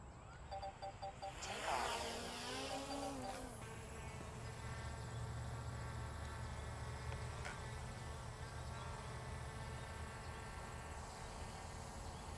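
Small drone hovering just after takeoff, a steady high buzzing whine of spinning propellers that swells as it lifts off in the first seconds, then holds evenly close by with no talk.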